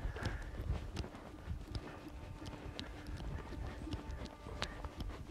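Hooves of a ridden horse clip-clopping on the ground in a steady, fairly close rhythm under outdoor rumble, with a little faint voice in places.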